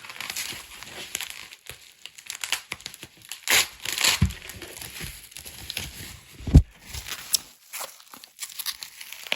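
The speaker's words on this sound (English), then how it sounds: "Let's untape it and see what we got." Tape peeled off a Thomas Wooden Railway toy package as it is opened, with close crinkling and tearing of packaging in irregular bursts and scattered sharper crackles, no talking.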